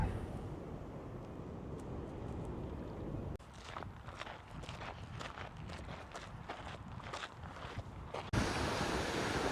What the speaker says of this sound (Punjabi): ਪਾਣੀ ਦੀਆਂ ਛੱਲਾਂ